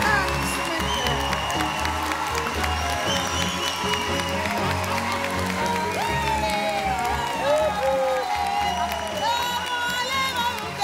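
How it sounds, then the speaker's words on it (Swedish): A talent show audience claps and cheers for an elderly singing duo, a broad, sustained roar of applause with scattered whoops and voices mixed in throughout. "Nu kliver vi ut och så ska de få njuta av en riktig applåd från talangpubliken."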